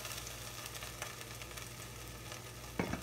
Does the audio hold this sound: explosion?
no